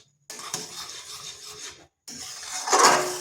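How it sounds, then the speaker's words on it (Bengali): Patisapta pitha filling stirred continuously in a pan, a close scraping and rubbing of a spoon against the pan in two bursts separated by a short pause, the second rougher and louder. "আর এটাকে এইভাবে অনবরত নাড়তে হবে"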